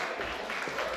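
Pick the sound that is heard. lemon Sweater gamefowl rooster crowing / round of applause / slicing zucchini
round of applause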